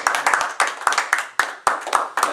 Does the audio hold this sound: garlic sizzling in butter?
no